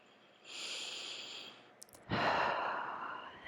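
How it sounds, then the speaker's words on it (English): Slow yoga breathing in and out through the nose, a soft drawn-out inhale followed by a fuller, louder exhale, close and alone in a quiet room. "Breathing here, in and out through the nose if it's comfortable."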